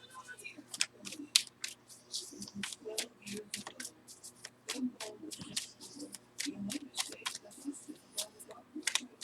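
Tarot cards shuffle quietly by hand close by, producing soft, irregular riffling and flicking bursts, with faint low rustles and small handling noises between them.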